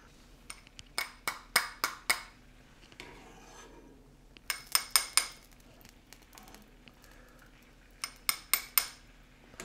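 Metal utensil scraping and clinking against a pan while skimming milk solids off clarified butter, rapid bursts of bright ringing taps in clusters separated by quieter scraping and pauses, close and crisp.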